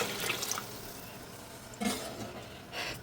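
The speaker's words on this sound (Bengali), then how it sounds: "এখন আমি এর মধ্যে দিয়ে দিচ্ছি কুসুম গরম পানি" Quiet splashing of lukewarm water poured into a pot of fried rice in a few short bursts, with soft clinks of cookware between them.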